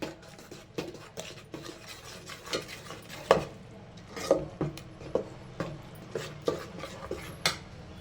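A spoon scrapes and clinks around a pot as raw spice powders fry for a mackerel fish sambar, with rhythmic taps and stirring strokes repeating every half second or so over a soft background sizzle.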